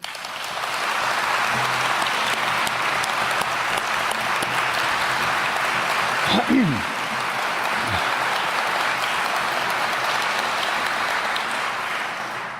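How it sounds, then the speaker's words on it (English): Sustained audience applause for San Antonio's city council at the mayor's farewell address, a dense, steady wash of clapping that holds for about twelve seconds, with a brief louder swell midway and a slight fade near the end. "give a big round of applause to the most transformative city council that San Antonio has ever"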